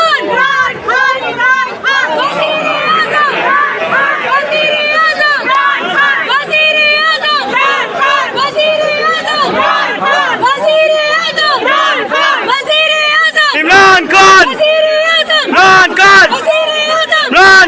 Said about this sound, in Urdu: لاہور ہائی کورٹ کے باہر عمران خان کے حق میں خواتین نے نعرے بازی کی